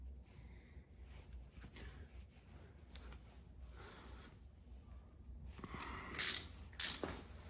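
A small torque wrench ratchets as crankshaft bolts on a small-block Chevy 383 stroker are tightened to 25 foot-pounds, giving steady mechanical clicking that ends in two sharper, louder clicks near the end.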